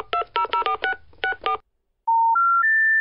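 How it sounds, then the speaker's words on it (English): Telephone keypad dialing: a quick irregular run of DTMF beeps pressed one after another, then a short pause and three rising steady tones like an invalid-number signal, clear and close. "Oh, maybe I didn't dial it right. Let me dial"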